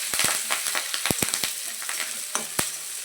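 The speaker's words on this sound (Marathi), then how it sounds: "त्यामध्ये टाकू आपण हिरवी मिरची आणि थोडासा कढीपत्ता दोन्हीला पण मस्त असं कडकडू द्यायचं" Green chilies and curry leaves crackle and sizzle in hot oil with garlic, steady close frying broken by sharp popping spatters and a few stirring clicks, no voices.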